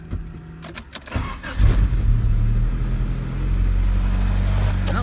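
A Honda D16Y7 turbo engine after a boost leak repair, running steadily with a deep, sustained drone that rises into a fuller rev, preceded by a few sharp clicks and clatter close by.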